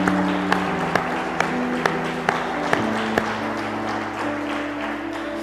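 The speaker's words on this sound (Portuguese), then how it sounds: "Pode aplaudir ao Senhor?" Congregation in a church service applauding with steady, dense clapping, overlaid by a sustained instrumental tone and periodic sharp taps; moderately loud throughout.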